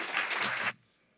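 A conference audience applauds after a speech, a thick burst of many hands clapping that stops abruptly after under a second, leaving near silence.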